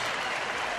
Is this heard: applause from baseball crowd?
yes